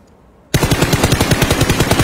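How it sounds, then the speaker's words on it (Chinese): Rapid automatic gunfire in the shooter game Peacekeeper Elite bursts in after a quiet start, a loud, close, evenly spaced volley of shots continuing to the end. "听枪声悬崖，好像有个人在开枪"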